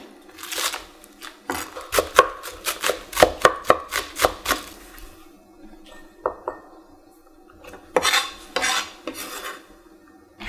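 A knife chops green onion on a cutting board for Korean beef short rib soup, giving sharp, close, irregular taps in two bursts separated by a short pause, with no talking.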